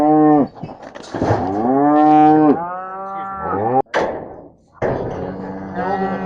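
Cattle in a community pasture near Thunder Bay, Ontario, give several long, close, loud moos one after another, broken by brief pauses and a few dull thumps.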